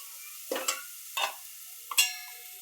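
Three short bursts of sizzling and stirring as beans cook in a pot set in a kadai over a gas flame, spaced apart, with quiet gaps between them.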